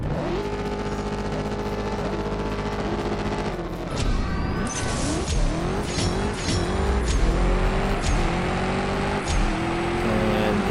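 Dodge Demon drag racing in the mobile game CSR Racing 2, a loud engine revving at launch, then climbing through repeated gear shifts with sharp pops, roaring steadily for the whole run.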